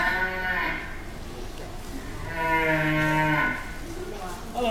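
A cow moos during a stage comedy performance, with two long, loud, drawn-out lowing calls and a shorter one trailing at the end, ringing through the theatre.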